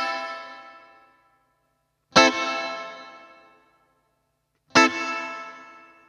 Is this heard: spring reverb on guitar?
yes